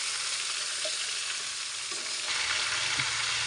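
Panch phoron spices stirred in hot oil while making a chalta (elephant apple) pickle, a loud, dense, steady sizzle with faint stirring movement beneath it, no voices.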